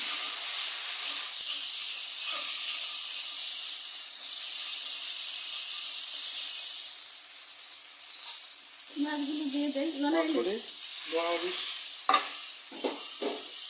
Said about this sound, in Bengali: রসুন বাটা দিয়ে দিচ্ছি।